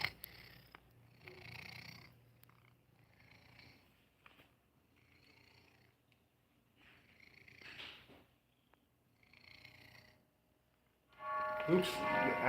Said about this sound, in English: He's got the big purr going too. Can you hear this?